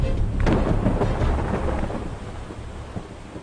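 Thunder rumbles loudly through a mountain thunderstorm with heavy rain, a strong crack near the start rolling into a long, sustained roar over steady downpour.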